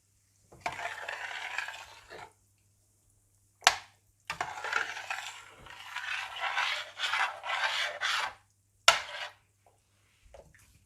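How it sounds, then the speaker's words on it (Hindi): Chicken being hand-mixed with salt, baking powder and citric acid for broast, giving bursts of wet rubbing and rasping strokes, close and moderately loud, separated by short pauses and a couple of sharp knocks. "नमक, बेकिंग पाउडर, स्ट्रिक एसिड और चिकन डालकर अच्छी तरह से मिला लूँगी।"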